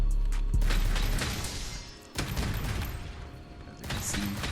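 Bombs placed on the ground in Monster Hunter World Iceborne are shot and blow up, giving a loud opening blast followed by crackling bursts and a second explosion, with clattering weapon mechanisms between.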